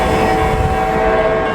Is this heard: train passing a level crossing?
yes